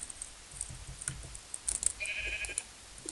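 A short synthetic Minecraft sheep bleat, thin and high, sounds amid light clicking and game-like background noise.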